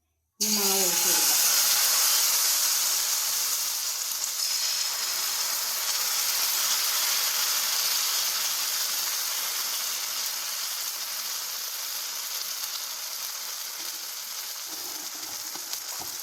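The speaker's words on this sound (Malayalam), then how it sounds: "എണ്ണ തേച്ച് കൊടുത്ത് പാനിനകത്ത് ഈ മാവ് ഒഴിച്ച് കൊടുക്കാം." Tomato and wheat-flour dosa batter hits an oiled pan and sizzles, a bright steady hiss that starts abruptly, stays loud and close, then slowly softens over the next quarter minute.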